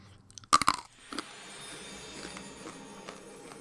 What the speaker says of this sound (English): I'm gonna eat some more of my weird candy, super crunchy, chalky bits.